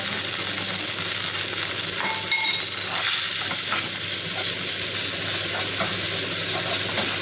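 Mashed, seasoned tofu stir-fried in a pan as vegan scrambled tofu, a steady close sizzle and hiss with scraping and stirring knocks from the spatula throughout.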